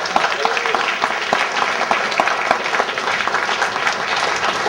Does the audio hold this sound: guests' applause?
yes